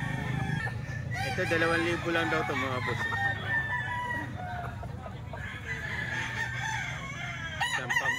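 Roosters crow repeatedly at a Wednesday chicken market in Grotto, several loud calls overlapping near and far amid clucking fowl, with people talking in the background.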